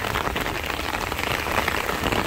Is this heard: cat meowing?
no